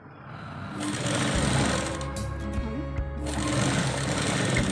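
Sewing machine stitching a blouse, starting after a short pause and running as a loud, close, steady whirring stitch rhythm that continues to the end, with one brief slowdown partway through.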